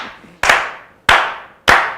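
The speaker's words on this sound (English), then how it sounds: "Can we slow clap this brother in, please?" Audience slow clap: three loud, separate claps spaced about two-thirds of a second apart, each ringing briefly before the next, with no talking.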